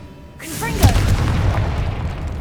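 An explosive spell cast in Hogwarts Legacy: a short spoken word, then a sharp, heavy boom that rolls into a long, loud rumbling blast and slowly fades.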